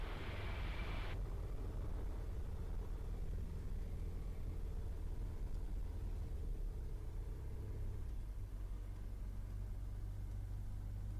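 A Eurofox microlight's engine at full power on takeoff drones as a steady, loud low rumble heard from inside the cockpit, with a brief higher whine at the start that drops away.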